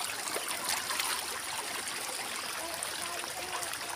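Shallow stream water runs steadily along a bamboo-lined bank in rural Mindanao, Philippines, as boots are rinsed in it, giving a continuous close trickling and splashing wash with no talk.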